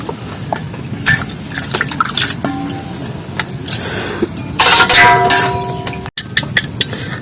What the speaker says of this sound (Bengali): কিছুটা কিন্তু রস বার করে নিচ্ছি এই পাতা থেকে